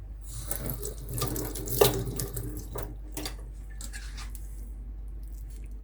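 Tap water runs into a kitchen sink while hands are wetted for rolling oat and sultana cookie dough, a close, steady splashing stream with a few drips and squishy hand sounds.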